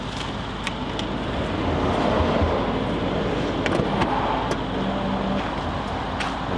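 Idling engine of a used pickup or car, a steady low rumble running evenly and close by with faint ticking on top and no talk over it.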